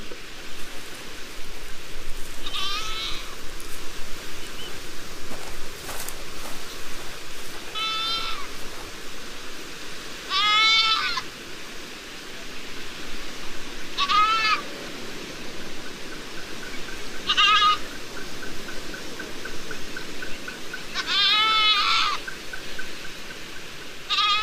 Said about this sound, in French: Manu Bai va se servir d'une chèvre comme appât.